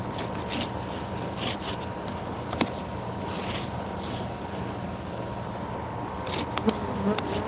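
A steady, dense buzzing of many bees at an opened beehive fills the air, close and continuous, with occasional faint clicks and thumps underneath.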